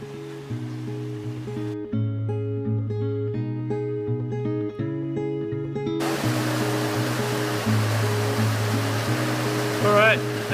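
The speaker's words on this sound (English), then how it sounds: "I'll show you just how fast the water's flowing out of it." Hot spring water surges through the yubatake channel at Kusatsu, around 5,000 litres per minute. The rushing wash rises loudly in the last few seconds, and background music with steady tones plays throughout.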